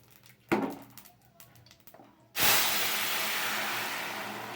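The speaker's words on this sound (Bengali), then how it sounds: "এবার আমি দুটো শুকনো লঙ্কা, একটু রাঁধুনি ফোড়ন দিয়ে দিচ্ছি।" Dried red chillies and radhuni seeds drop into hot mustard oil and set off a sudden loud, steady sizzling hiss that keeps going close up. A few soft kitchen clinks come before it.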